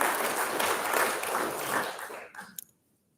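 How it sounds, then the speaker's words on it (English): An anniversary celebration crowd applauds, a broad steady rush of clapping that swells and then thins out into a few scattered final claps before falling silent. "You can clap."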